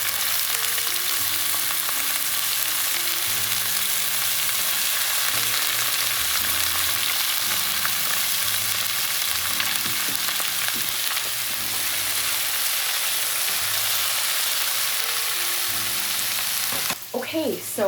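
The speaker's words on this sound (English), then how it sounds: "We are just going to let those saute for a few minutes until they get slightly softened and tender" Vegetables sauté in a pan with a continuous loud sizzle and crackle, while low background music plays. Near the end a utensil briefly knocks against the pan.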